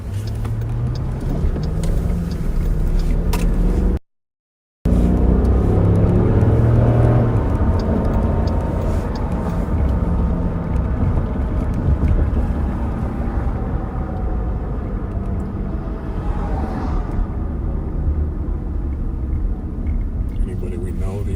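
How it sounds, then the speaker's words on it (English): Steady road traffic rumbles along with cars passing near and far during a police patrol, a continuous low engine and tyre wash with a brief dropout, while radio chatter and voices talk over it. "the traffic is definitely picking up"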